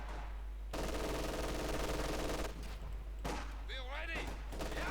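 An MG42 machine gun firing in the Company of Heroes 2 strategy game, with sustained bursts and chattering rapid fire alongside other battle noise and a voice talking over the action.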